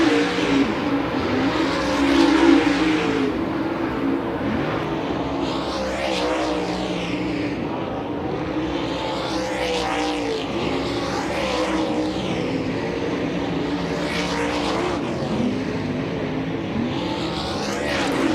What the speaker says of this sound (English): Hot lap session number 3, back to full throttle